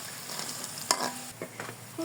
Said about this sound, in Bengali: একটু সময় নিয়ে ভাজতে হবে